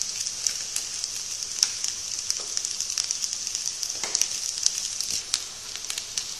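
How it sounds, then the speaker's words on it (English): Noodles frying in a pan for lemon noodles, a bright steady sizzle with scattered crackles and pops, close and continuous, with no one speaking. "Now add noodles on it. And fry well."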